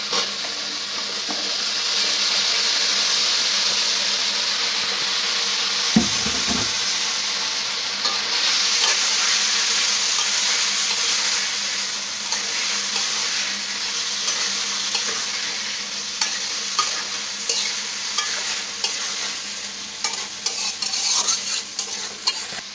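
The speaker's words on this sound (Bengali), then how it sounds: "এখন আমি দিয়ে দিব আলু বেগুন কেটে আমি ধুয়ে পরিষ্কার করে রাখছি, এটা আগে দিয়ে দিব" Cubed potatoes and eggplant fry in spiced oil after the masala has cooked down, giving a steady, loud sizzle with occasional stirring scrapes and one brief knock of a utensil partway through, and no voices.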